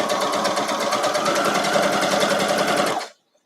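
A sewing machine stitches a quilt block in a fast, steady rattling run of needle strokes for about three seconds, then stops abruptly into silence.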